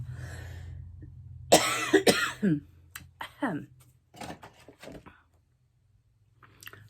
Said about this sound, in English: Excuse me a moment while I just cough